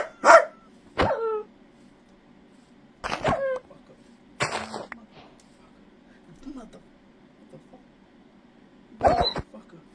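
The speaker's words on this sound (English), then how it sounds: "Bro, where are these dogs coming from?" Dogs in Minecraft played in VR, a handful of separate sharp barks and yips spaced across the stretch, some with whimpering tails, over a quiet steady hum; a voice also sounds between them.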